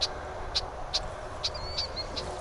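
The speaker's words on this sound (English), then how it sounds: "I've got some red-winged blackbirds who are upset with me" Agitated red-winged blackbirds call near a nest in reeds, giving short sharp chips at a steady, repeated rhythm a few times a second apart, with a brief whistled note midway, moderately close over a faint background hiss.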